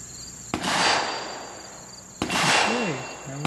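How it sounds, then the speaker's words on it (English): A rifle fires a 174 grain bullet over a chronograph: two sharp, loud reports about two seconds apart, each trailing into a long echoing decay, with a short warbling tone after the second. "And we're shooting a 174 grain bullet."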